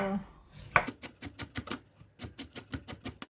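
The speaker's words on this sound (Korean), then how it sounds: "당근도 하나 채 쓸게요." A knife chops rapidly through a carrot on a cutting board, cutting it into thin julienne strips while preparing young radish kimchi, with a steady run of crisp, close knocks that pause briefly midway before continuing.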